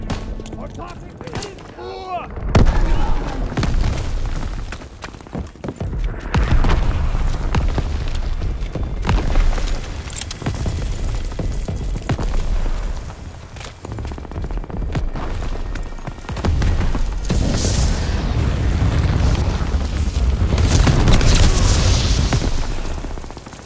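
Grenade blasts and heavy wartime battle noise in Call of Duty: WWII during a beach assault, with a loud boom after a short quiet start, then sustained rumbling explosions and gunfire while soldiers shout over it.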